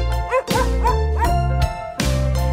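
A white cartoon dog in a children's song gives several loud, clear barks and yips in quick succession over a bright musical backing.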